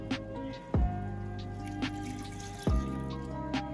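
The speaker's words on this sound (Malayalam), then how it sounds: "ആ മിക്സിയിൽ ഇത്തിരി വെള്ളം ഒഴിച്ചിട്ട്" A little water is poured into a mixer jar in a home kitchen while cooking channa masala, giving a few close, distinct splashing drips and clinks over a steady low hum, with no talking.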